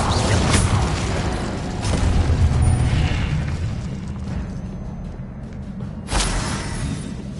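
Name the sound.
spell casting effects in video game Hogwarts Legacy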